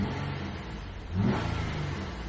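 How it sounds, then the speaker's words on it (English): A Nissan Altima car engine revs up once, a short rising roar over a steady low engine hum, fairly close. "She was revving up pretty good."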